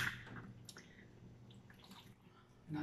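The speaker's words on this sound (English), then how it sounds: "Okay, then I'm gonna put some water in." Water is poured into a mango pie filling, giving a short faint trickle and splash with soft drips in a quiet kitchen.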